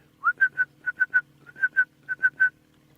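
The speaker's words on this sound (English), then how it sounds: "I've heard a red-crested koran that's been calling quite a while. It's got a very interesting whistling sound" A red-crested korhaan in the African bush gives a whistling call, a series of about eleven clear, short rising whistles in quick groups, fairly near and alone over faint low background hum.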